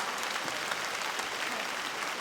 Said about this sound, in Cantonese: 用你哋嘅熱力掌聲